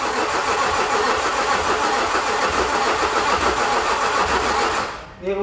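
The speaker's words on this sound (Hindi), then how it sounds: "as you can hear we are trying to start the car" A Range Rover Sport V6 under engine overhaul cranks loudly and continuously as someone tries to start it. The starter churns without catching, then cuts off abruptly, leaving a voice speaking briefly at the end.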